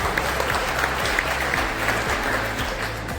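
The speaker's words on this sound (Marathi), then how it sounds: "आपण सर्वांसाठी जोरदार टाळ्या वाजवायच्या आहेत" An audience at a school ceremony for an Atal Tinkering Lab in Nashik claps steadily, a dense continuous wash of applause lasting the whole short stretch.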